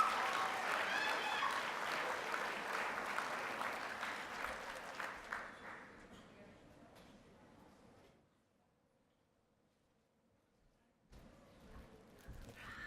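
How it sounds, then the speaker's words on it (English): Audience applause at a school awards ceremony, loud and steady for about six seconds, then thinning out and fading to near silence before faint movement returns. "Give her a round of applause, and give the Richard J. Murphy a round of applause."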